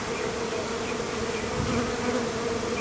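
Steady, dense buzzing of many live bees inside a shipping package, a continuous droning hum at even loudness throughout with no voices.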